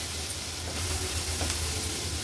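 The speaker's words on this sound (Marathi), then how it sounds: "वाटण तेलावर थोडंसं आपल्याला असं परतून घ्यायचंय।" Ground masala paste frying in hot oil, a dense, steady sizzle and crackle with faint stirring scrapes, close and unbroken, and no one talking.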